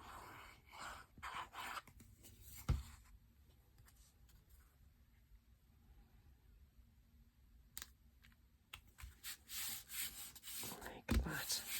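A cut piece being rubbed down onto card in a craft session, with close, dry, brushy friction strokes in bursts at the start and end around a quieter middle stretch.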